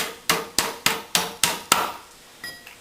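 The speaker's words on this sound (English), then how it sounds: "So again, hammer it in so there's a little nub sticking through" Six sharp, evenly spaced hammer blows drive a caster into a sewing cabinet partition, each a crisp close knock that rings briefly, followed by a pause and a softer final tap.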